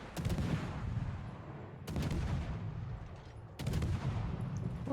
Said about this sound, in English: Oh, my torpedoes hit something.